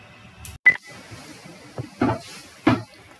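A phone keypad gives a few separate short beeps and taps, spaced irregularly, as an SMS is typed in a quiet room.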